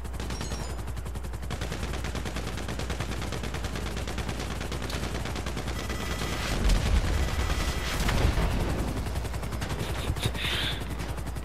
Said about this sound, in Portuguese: Dá uma voadazinha baixa aí que eu metralho todo mundo lá embaixo. Oxi, acabei de botar a metralhadora.